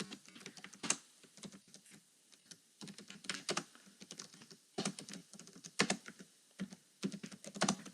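Computer keyboard typing of a program comment: irregular bursts of close, crisp keystrokes with short pauses between words, no talk.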